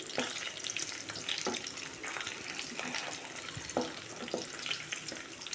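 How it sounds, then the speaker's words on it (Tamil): Garlic frying in a pan makes a constant crackling sizzle, broken by several sharp scraping stirs spread across the clip, close and moderately loud, with no talking. "இந்த பூண்டு இப்போ ஓரளவுக்கு ஃப்ரை ஆயிடுச்சு"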